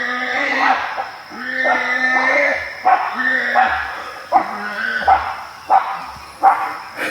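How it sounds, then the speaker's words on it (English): A dog in Hawaii barks and yips loudly at close range, with drawn-out whining cries followed by a run of sharp, evenly spaced barks about once a second. "we literally hear a dog barking and then a pig"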